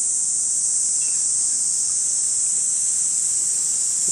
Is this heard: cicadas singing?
yes